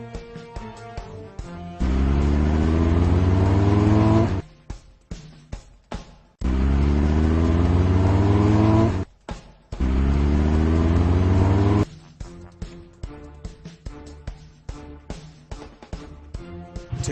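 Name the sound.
fire trucks revving in Blaze video game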